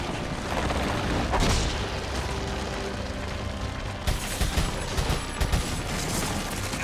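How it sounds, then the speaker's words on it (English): Barrels blown apart by gunfire in Resident Evil 4 on PS4, a dense roar of booming blasts and rattling debris that runs through the whole stretch, with a cluster of sharper bangs near the end. "I might be better off shooting these barrels"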